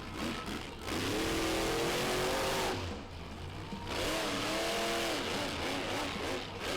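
A monster truck engine revs hard as the truck climbs over a stack of buses at a Renegade Monster Trucks event in Gaithersburg, Maryland, two loud surging roars separated by a brief dip.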